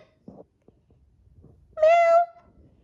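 A single clear meow rings out near the end, preceded by a few faint soft sounds in an otherwise quiet room.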